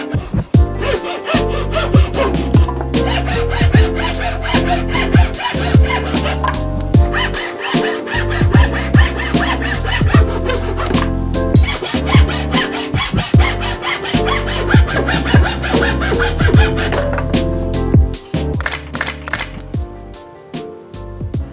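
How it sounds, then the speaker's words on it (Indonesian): Steady back-and-forth hand sawing through a wooden board, rapid rasping strokes continuing almost without pause, close and loud. "siapkan kayu papan dan potong sesuai dengan ukuran yang dibutuhkan"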